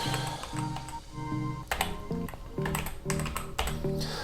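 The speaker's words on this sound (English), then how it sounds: "Gosh, this keyboard is like nostalgic to type on" Someone types on an iMac G4 keyboard with quick, uneven clicks and key taps close by, while a soft melodic tone plays underneath.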